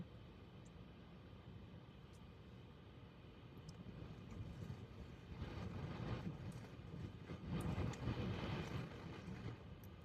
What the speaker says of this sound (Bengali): ও উপর দিয়ে প্লেন যাচ্ছে